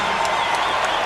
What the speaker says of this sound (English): You'll hear the crowd react to this.